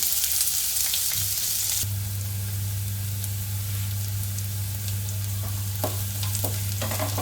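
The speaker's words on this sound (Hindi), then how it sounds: "ये रफली चॉप्ड अनियन है जो मैं डाल रही हूँ" Roughly chopped onion sizzles in a tablespoon of oil in a kadhai over a low flame, a steady close frying hiss with a constant low hum and occasional stirring scrapes.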